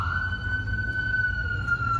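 A single sustained siren tone holds steady and fairly loud, with a low rumbling hum beneath it, at the Tuol Sleng Genocide Museum in Phnom Penh, Cambodia.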